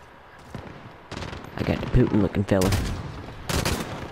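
Rapid bursts of gunfire in a Call of Duty match, clusters of sharp shots in quick succession, with someone talking and reacting over the shooting.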